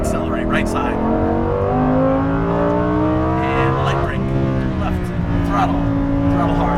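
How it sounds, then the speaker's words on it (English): A Lamborghini Huracan Performante accelerates hard on a race track, its engine note rising steadily and loudly under continuous instructor speech. "Look at the exit cone, accelerate out to it, get out there, lots of throttle."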